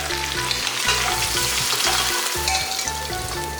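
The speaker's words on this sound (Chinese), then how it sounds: "炸了差不多5分钟，这个羊排已经好了，看，炸熟它收缩了。" Lamb ribs deep-fry in hot oil, giving a loud, continuous crackling sizzle with rapid bubbling pops, close up and without voices.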